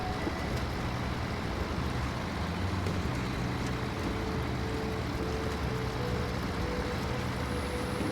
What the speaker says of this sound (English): Is the engine sound too loud?